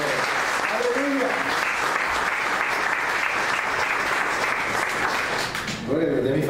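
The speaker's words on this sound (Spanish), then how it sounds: "Den una ofrenda de palmas a Él" A church congregation claps together in sustained applause, a dense, even crackle of many hands that runs steadily and fades near the end, with voices cheering underneath.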